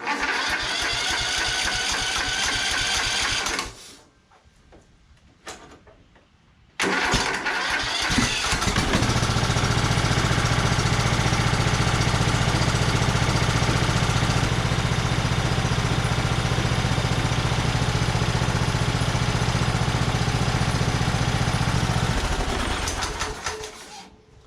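A Toro SS4200 zero-turn mower engine, just after a head gasket replacement, cranks, dies briefly, then fires up and settles into a loud, steady idle that runs for about fifteen seconds before cutting off.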